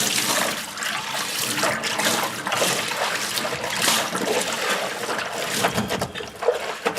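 Water rinsing a dirty AEM air filter with 98K miles of use, splashing and running water in close, uneven surges that swell and ebb throughout.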